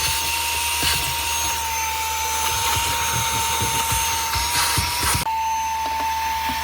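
A handheld 4-in-1 cordless car vacuum cleaning a car interior, a loud steady motor whine with rustling suction bursts, cutting to a quieter hum near the end.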